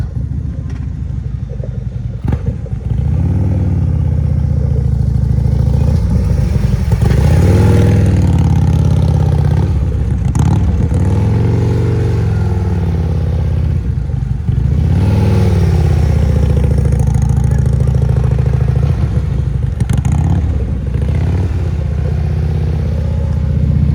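Two Harley-Davidson CVO motorcycles ride at slow speed with the throttle held up, a steady loud mid-pitched engine rumble with recurring swells as the bikes circle and pass close by.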